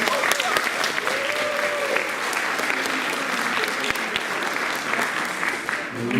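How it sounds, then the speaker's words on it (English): An audience at a school district film festival applauds seventh-grade filmmakers, a sustained, loud wash of clapping from many people that holds steady throughout and eases slightly at the close. "big round of applause for our 7th graders"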